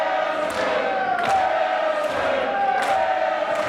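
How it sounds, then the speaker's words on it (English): A capacity wrestling crowd chanting a wrestler's name in unison, a rhythmic repeated chant in regular pulses of massed voices filling the arena, steady and moderately loud. "And this capacity crowd chanting as one"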